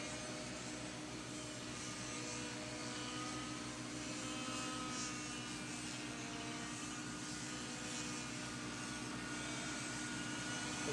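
A Mini-Disc R/C model aircraft flies overhead with a steady, high-pitched motor whine. The whine holds at an even, moderate level throughout, with no talking.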